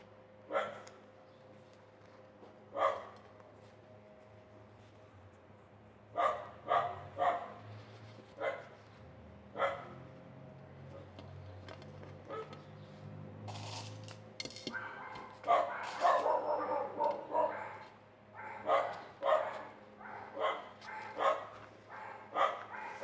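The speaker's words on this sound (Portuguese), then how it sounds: "o cachorro da vizinha latindo" Dog barking next door, repeated single and clustered barks at a moderate distance, irregular and fairly faint, with quiet indoor handling sounds in between.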